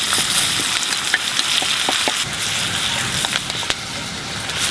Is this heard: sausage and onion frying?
yes